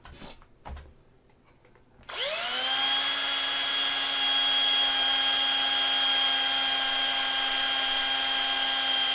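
A small power drill spins up after a few light handling taps and then runs at a steady high-pitched whine, boring into a resin model kit to make holes for pins.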